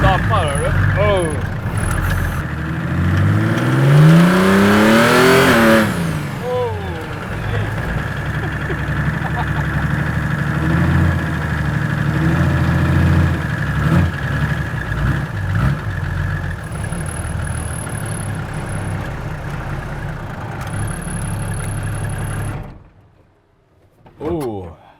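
An old car's engine cranks, revs up with a rising whine, then settles into a steady rumbling idle that runs for a long stretch under people chatting nearby, before cutting off near the end.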